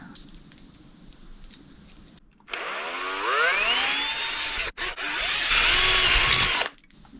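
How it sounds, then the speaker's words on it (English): A 5mm drill boring a hole into a Tamiya Lunchbox RC car chassis, a loud whining power drill that revs up, pauses briefly, then runs again before stopping, close and dominant. "I'm going to use a 5mm drill for this"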